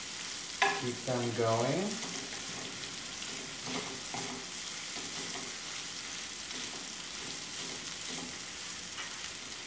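Softening vegetables stirred in a pan for a roasted cauliflower gratin, a quiet steady sizzle with a few scrapes and clicks of stirring; a brief spoken remark comes near the start.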